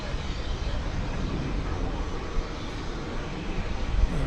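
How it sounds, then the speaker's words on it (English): A noisy airliner roars loud and steady at DFW Airport, a broad continuous engine rumble that swells slightly toward the end with no break. "That was a noisy plane."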